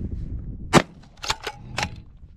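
A small handgun fired at an outdoor range in Colorado Springs: four sharp, crisp shots spaced irregularly across a couple of seconds, close and loud over quiet background.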